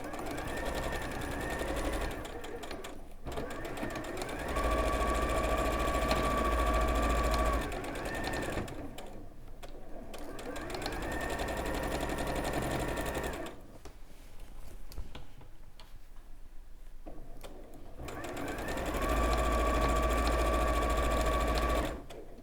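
A sewing machine stitches quilt rows for a Linking Stars or Celtic Crossing quilt in steady loud runs lasting several seconds, with brief pauses and light talk faintly underneath.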